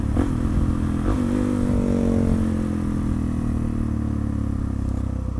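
Motorcycle engine running steadily while riding, loud and close with a droning tone that holds evenly throughout, no voices.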